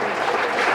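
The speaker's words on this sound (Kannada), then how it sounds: "ಅವರಿಗೆ ಜೋರಾದ ಚಪ್ಪಾಳೆ ತಟ್ಟುವ ಮೂಲಕ ಆ ಅಗ್ನಿವೀರನಿಗೆ ಅಭಿನಂದಿಸಬೇಕೆಂದು" A crowd at a ceremony in Belagavi honouring a newly selected Agniveer army recruit claps loudly and steadily, the applause dense and unbroken.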